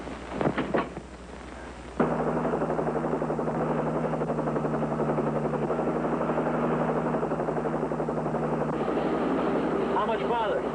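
A police patrol helicopter flies nearby, its steady loud rotor and engine drone starting abruptly and holding through the clip, with brief sounds before it begins.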